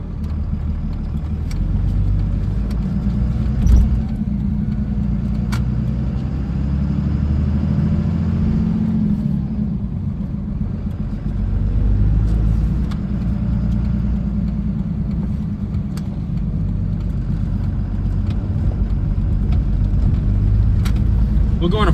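A 1998 Dodge Ram 2500 with a Cummins diesel, five-speed manual and 4x4 drives along with a steady low rumbling drone from inside the cab, rising slightly in places, while people talk over it.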